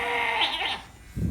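A goat, recently given a haircut, lets out a loud, close, wavering bleat, then goes quiet before a short low thump at the end.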